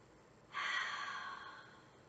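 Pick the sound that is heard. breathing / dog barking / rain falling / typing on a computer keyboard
breathing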